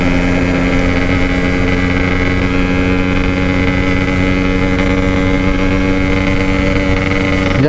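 A Yamaha RX King motorcycle engine runs steadily at high speed throughout, a loud, continuous droning two-stroke buzz with a constant pitch and no pauses.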